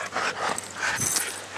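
Dog whimpering and panting excitedly before a walk, short high whines and quick breathy pants close by, with no talk.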